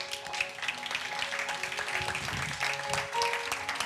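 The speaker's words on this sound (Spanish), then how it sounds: "a las que vamos a recibir también, como siempre, con un fuerte aplauso" A hall audience at a Zabaltegi new-directors session gives steady applause, a faint, dense patter of many hands clapping continuously with a low hum beneath.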